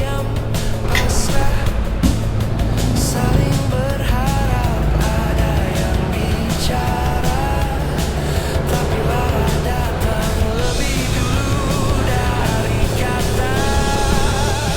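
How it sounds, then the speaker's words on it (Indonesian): Heavy engine rumble and road noise from big trucks on a rural road near Pangalengan, West Java, with tonal engine whine shifting as vehicles pass; loud and continuous, no talk. "Banyak truk-truk gede ya."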